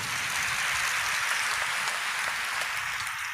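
A congregation at a Christian ministry sermon claps together in a steady, dense round of applause that holds at an even loudness for several seconds, with no talking over it.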